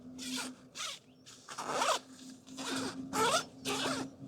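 Zip on the mesh layer of a TAS Tactical Assault Systems pole hoop bivvy, a number 5 size, pulled back and forth in six quick close rasping strokes, with a steady faint hum underneath.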